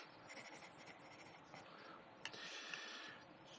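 A General's Layout Pencil #555 writes on a letter notepad with a steady, soft graphite scratching that carries on through the whole stretch, close and fairly quiet, with a couple of sharper taps near the end.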